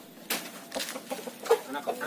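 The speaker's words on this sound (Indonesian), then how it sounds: "Anak jago." A young rooster lets out a few short, uneven clucking calls, moderately close, in scattered bursts over a faint background.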